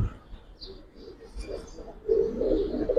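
Giribaz pigeons cooing softly nearby in a loft, low murmuring coos growing a little louder toward the end, with faint background voices.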